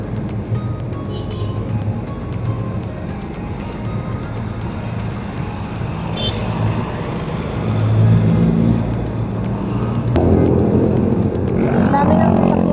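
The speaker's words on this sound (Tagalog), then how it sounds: "Dami ng sasakyan agad." Heavy early-morning car traffic on EDSA, heard from a bicycle riding alongside: a constant dense roar of engines and tyres that swells louder toward the end as vehicles pass close by.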